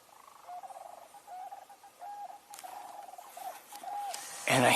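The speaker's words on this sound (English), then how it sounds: "That's a short-eared owl." A short-eared owl calling outdoors, a faint series of low, short hooting notes repeated at a steady pace, ending in a sudden louder rustle close by.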